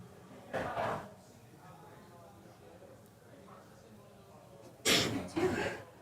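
A sneeze bursts out twice at close range, with sharp breathy explosions separated by quieter background chatter and room noise.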